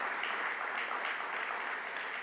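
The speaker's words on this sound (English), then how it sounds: "you should all give yourselves a round of applause" A crowd at a Westbury downtown revitalization announcement by Governor Cuomo claps steadily, a thick even patter of many hands sustained throughout without speech on top.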